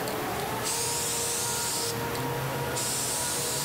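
Yellow spray paint mists onto a surfboard in light bursts, a close airy hiss that rises and falls in about three passes over a faint background.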